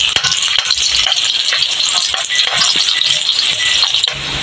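Ginger and onion hit a hot pan already holding garlic while cooking sinigang with tambakol fish, giving a close, continuous sizzle with stirring scrapes and light rattles throughout.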